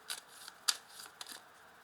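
A tarot card drawn from a deck during a reading, giving a few faint, brief papery swishes and one sharper snap in an otherwise quiet setting.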